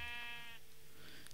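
A cow in the video game Minecraft lets out a single short, low, moaning call, faint and close, followed by quiet background.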